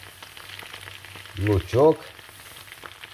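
Potatoes fry in a pan over lard with a steady, soft sizzling hiss, briefly overlaid by one short spoken word.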